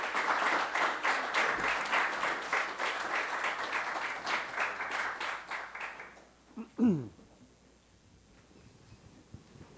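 An audience applauds to welcome Bishop Robert McElroy, a dense steady clapping that runs for about six seconds before fading out, followed by a brief soft thump and near-quiet.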